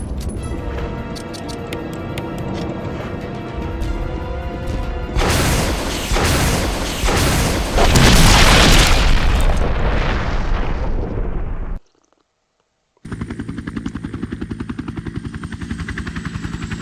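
Rocket launcher explosions in Resident Evil HD Remaster, loud roaring blasts and sustained rumbling over droning tones and music, then a sudden cut to silence before a steady hum resumes.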